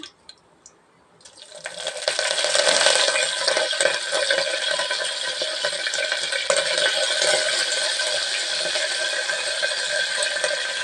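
Curry leaves dropped into hot oil already holding fried spices burst into a loud, steady sizzle that starts abruptly after a quiet moment and keeps hissing evenly to the end.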